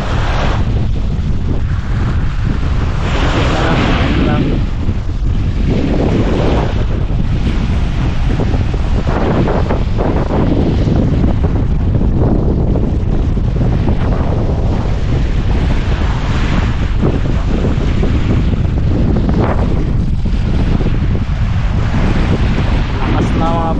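Strong amihan monsoon wind buffets the microphone outdoors near the sea, a loud continuous roar with gusting surges and surf-like rushing throughout, no clear gaps.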